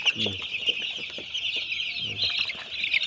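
A dense chorus of high, shrill chirping from many broiler chicks huddled together, damp and unwell during winter brooding, fills the clip continuously, with a few lower clucks mixed in nearby.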